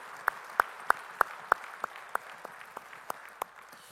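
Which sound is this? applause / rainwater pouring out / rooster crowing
applause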